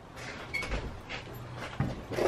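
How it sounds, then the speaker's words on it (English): A door being opened indoors, soft thuds and a sliding scrape with a sharper knock near the end, fairly quiet and close. "Open the door."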